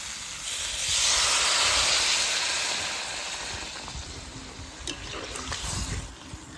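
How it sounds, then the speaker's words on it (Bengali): Water pours into a hot pan of potato fish curry with a loud rushing hiss of steam that swells then settles into a softer bubbling simmer with a few light clinks, no talk. "আলুটা ভালো করে কষানো হয়ে গেছে এবারে জল দিয়ে দেব"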